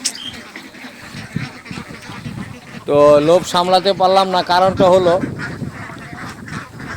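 Ducks at a village duck farm in winter break into a loud burst of honking quacks in the middle, close by, while a person talks over them.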